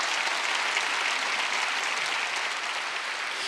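A church congregation claps together during a Wednesday worship service, continuous even clapping filling the room at a steady level with no break.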